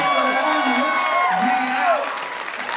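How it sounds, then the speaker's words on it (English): A convention panel audience at a Supernatural fan convention in San Francisco bursts into sustained loud applause, cheering and whoops, with voices and tonal sounds over the crowd throughout. "So give yourselves a round of applause"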